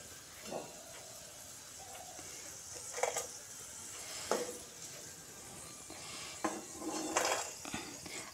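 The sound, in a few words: crispy fried okra lifted out of oil in a pan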